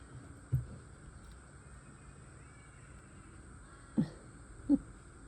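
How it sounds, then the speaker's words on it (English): A distant bird calls out three times, short harsh cries spaced apart over a quiet background hum. "Can you hear that bird?"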